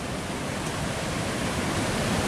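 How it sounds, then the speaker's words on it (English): Raging river rapids just upstream of Niagara Falls pour in a dense, unbroken roar that stays loud and steady throughout, with no voices. "look at this raging river that produces the falls"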